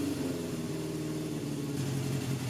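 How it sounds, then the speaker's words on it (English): A Honda CB750 motorcycle engine with dirty fuel and one cylinder's exhaust not heating up runs at a steady idle, an even droning hum held close with no talk. "the bike is running again"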